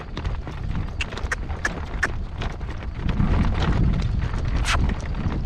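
Horse hooves clip-clop over rocky, rain-softened ground on a trail, a steady uneven walking rhythm of close hoof strikes under a low rumble of wind.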